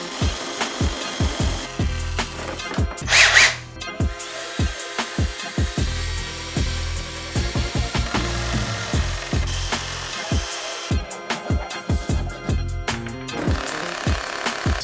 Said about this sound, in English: Cut some nice finger grooves